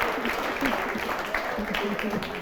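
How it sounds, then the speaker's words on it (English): Studio audience applause for debaters on a television talk show, a continuous wash of clapping with voices mixed in underneath. "All right, round of applause for them."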